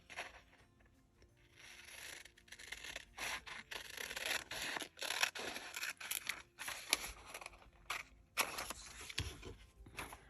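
Scissors cutting paper for a mini journal, a close, quiet series of snipping and rustling strokes with brief pauses between cuts.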